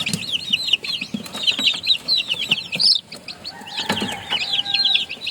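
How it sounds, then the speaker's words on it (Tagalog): Hens cluck and chirp in quick, busy bursts close by, with a short pause midway before the clucking resumes. "yung aking Inyo DC na inahin mga kabakyard ay nagsisiw na"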